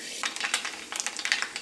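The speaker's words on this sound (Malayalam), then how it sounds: "ഈ ചൂടായ വെളിച്ചെണ്ണയിലേക്ക് കടുക് ഇട്ട് പൊട്ടിക്കുക." Mustard seeds spluttering in hot coconut oil for a kovakka thoran, heard as a close, busy crackle with sharp pops over a steady sizzle, alone.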